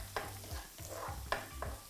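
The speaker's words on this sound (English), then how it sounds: "Now to begin to stir fry, I've got some coconut oil in the pan." Garlic and chilies stir frying in coconut oil in a pan, giving a low steady sizzle broken by several sharp scraping stirs, close and fairly quiet, with no talking.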